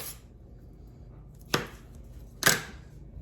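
A knife does rough chopping on a cutting board, two sharp, isolated knocks well apart over a quiet background, close and crisp with no talking.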